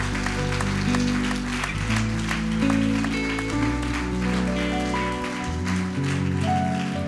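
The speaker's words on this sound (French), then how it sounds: "Est-ce que nous pouvons acclamer le Seigneur?" A congregation claps steadily in church, a dense continuous patter of hands under sustained organ or keyboard chords, loud and filling the room throughout.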